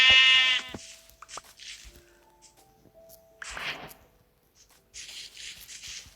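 Sheep bleating in Minecraft survival gameplay, a loud harmonic bleat at the start followed by quieter shuffling and clicking game sounds, then a burst of hissing noise near the end.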